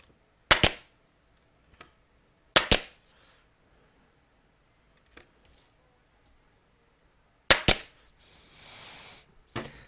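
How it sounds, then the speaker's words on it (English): A Hitachi nail gun driving nails into boards fires three sharp, loud pneumatic snaps spaced a few seconds apart, with faint clicks between and a short hiss of air after the last shot. "I just got that Hitachi nailer gunner, and I'll be honest with you, it worked pretty good"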